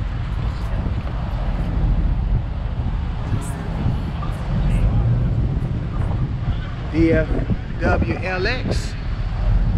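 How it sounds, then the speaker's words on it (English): Wind buffets the microphone outdoors at a car meet with Dodge Chargers and SS Camaros, making a constant low rumbling roar, with voices talking briefly near the end. "It's windy today."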